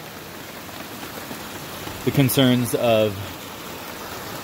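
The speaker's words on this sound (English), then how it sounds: "it's also still raining pretty hard" Heavy rain pours steadily during a storm with hail and flash flooding, a dense, constant hiss close by, while a person speaks briefly over it midway.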